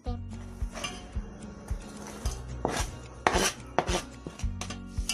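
A knife chops meat repeatedly on a cutting board in an irregular rhythm, close and crisp, with occasional clinks between strokes.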